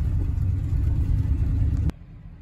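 Old truck engine running while driving, a steady low rumble that holds loud and close for about two seconds before cutting off abruptly.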